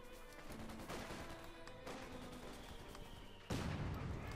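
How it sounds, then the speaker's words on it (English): Mortar strike in Company of Heroes 2 battle, with faint bursts of distant gunfire and a sudden heavier impact near the end, all at low level. "Good hit there from the mortar."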